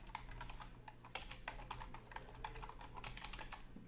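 Typing on a computer keyboard during a webinar on perspective drawing: a steady stream of quick, close key clicks with small bursts and pauses, quiet and continuous, with no voices.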